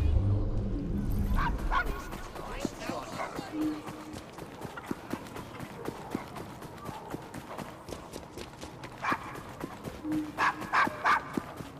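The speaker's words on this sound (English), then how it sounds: "Nice doggy." A dog in the game Assassin's Creed Syndicate barks in short bursts, with quick repeated barks standing out near the end against busy background noise and clopping.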